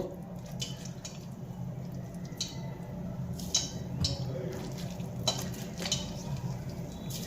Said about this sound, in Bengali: এই মূলো থেকে চেপে চেপে জলগুলোকে বের করে নেব